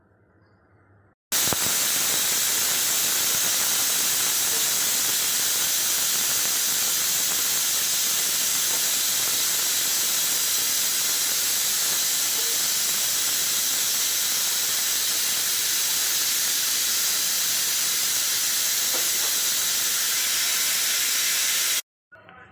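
A pressure cooker cooking lentils lets out a loud, continuous hiss of escaping steam for about twenty seconds. It starts and stops abruptly.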